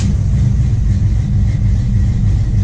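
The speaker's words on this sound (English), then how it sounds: ".350 small block Chevy cold start." A 350 small-block Chevy V8 in a GMC Jimmy, just after a cold start, runs at a steady, loud, close-up idle with a deep, even low rumble and no pauses.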